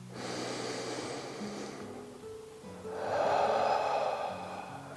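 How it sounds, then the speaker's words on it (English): A person takes a long, deep breath in, a close and audible airy inhale that swells and then fades. After a brief pause a second, fuller breath follows, with no talk. "Take a nice big deep breath."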